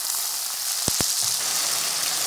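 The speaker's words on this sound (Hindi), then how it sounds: "फ्रेंड्स, ये मसाला भून रहा है" Masala sizzles in hot oil with already-fried onions in a pan, a steady close hiss running throughout, broken by two quick low thumps of a spoon early on.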